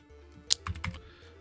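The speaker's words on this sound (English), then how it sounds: "I'm gonna type in OP03 Nami" Typing on a computer keyboard, a short burst of four or five close, crisp key clicks in an otherwise quiet room, with no voices.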